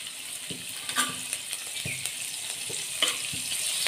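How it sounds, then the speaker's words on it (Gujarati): Grated ginger and finely chopped chilies sautéing in hot oil for tikha ghughra, a close, continuous crackling sizzle broken by a few stirring clicks and scrapes, no talking. "આદું અને મરચાં બરાબર સાંતળી લઈએ."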